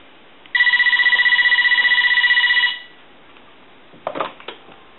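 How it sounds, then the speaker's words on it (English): An AT&T 4200 cordless telephone rings with a steady electronic trill for about two seconds, loud and close, followed by a quieter pause and a few brief clicks and knocks as the handset is handled. "I want to go ahead and ring the telephone"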